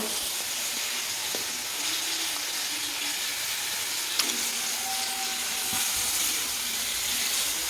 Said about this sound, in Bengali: এবার এগুলোকে তেলের মধ্যে ফ্রাই করা হচ্ছে